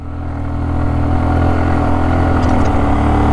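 A car engine labors steadily uphill on a steep road through hilly forest, its low, continuous drone loud and close throughout, with no voices.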